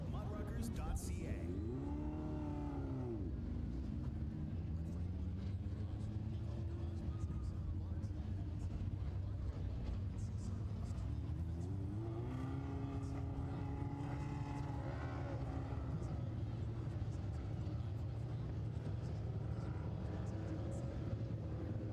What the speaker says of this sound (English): Winnipeg Free Press Lightning Sprint heat number 2 coming onto the racetrack